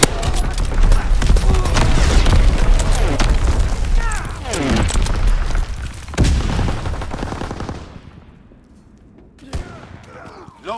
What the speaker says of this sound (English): Firing battery one. Target position confirmed.